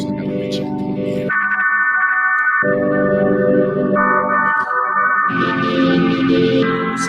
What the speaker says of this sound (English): So that's just the reverb.